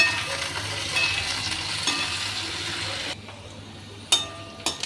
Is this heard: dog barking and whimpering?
no